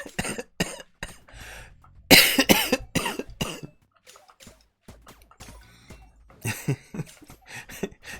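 Someone coughs in a string of short, harsh bursts, loud and close, separated by brief pauses, with a louder cluster near the middle and more bursts toward the end.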